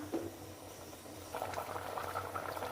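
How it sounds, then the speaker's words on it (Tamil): A pot of okra sambar bubbles at a steady boil, soft popping and gurgling close by, growing busier after the first second. "இப்போ பாருங்க நல்லா கொதி வந்துருச்சு."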